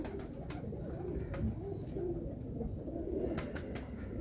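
Pigeon cooing softly, a low murmuring coo repeated under a busy background with occasional faint chirps from other birds, moderately close and without talk.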